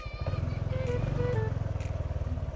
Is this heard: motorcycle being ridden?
yes